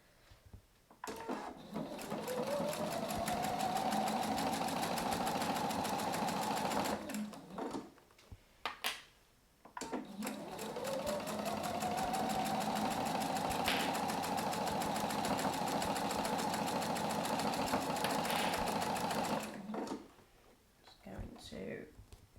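A sewing machine stitches a seam on a quilted travel bag in two long, steady runs of rapid mechanical whirring, close and moderately loud, separated by a brief pause with handling noises.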